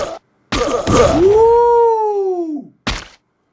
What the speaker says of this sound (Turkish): Bomba atıyor.